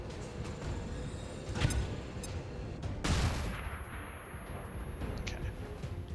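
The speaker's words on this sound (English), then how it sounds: "We're gonna go ahead and do the flashbang." A flashbang grenade goes off in the video game XCOM 2, a sharp burst with a heavy crack, followed by a second blast, under a dense layer of battle noise.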